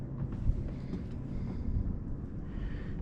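Wind buffeting a sailboat out on the water, a steady low rumbling roar that fills the whole moment with no voices.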